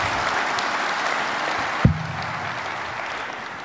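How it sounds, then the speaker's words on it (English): Applause at an enrollment event welcoming a new enrollee, a sustained wash of clapping from a roomful of people with one sharp thump partway through, fairly loud and close. "Let's give him a big round of applause."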